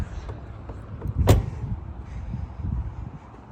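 The front trunk of a Tesla Model 3 with a white interior pops open with one sharp latch click and a soft thump midway through, set against a low, steady background rumble.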